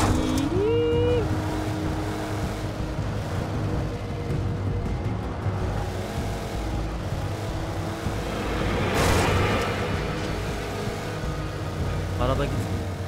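Car driving in the video game Alan Wake Remastered, a steady engine drone running throughout with swells, heard under a player's voice talking.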